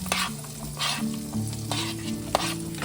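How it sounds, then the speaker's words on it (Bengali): Chopped onions fry in a pan with a dense, continuous close sizzle, punctuated by a few stirring scrapes and one sharp clink, and no one speaking. "এবারে আমি এখানে কুচিয়ে রাখা পেঁয়াজগুলো দিয়ে দেবো"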